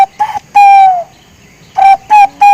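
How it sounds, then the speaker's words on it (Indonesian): Spotted dove (balam) coos, several clear tonal calls in short bursts with a pause between, close and loud with no talk over them. "Bunyi balam dah, bunyi balam."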